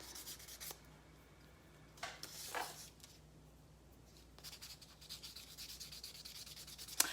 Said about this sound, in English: I'm gonna go ahead and buff these two and see if they need any more actual like filing